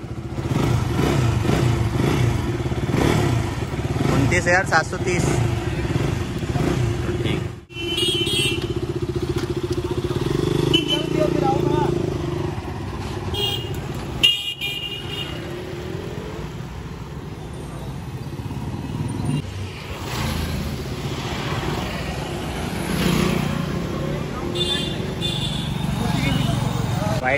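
A KTM RC 200 motorcycle engine idles and revs in a steady mechanical rumble, interrupted by a few thumps, while someone talks over it nearly throughout.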